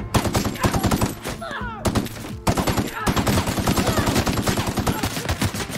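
Battle gunfire in the video game The Outer Worlds, dense rapid automatic bursts close and loud with a brief gap and a whooshing effect before firing resumes.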